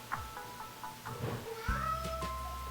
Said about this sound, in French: Puis mon chat qui miaule,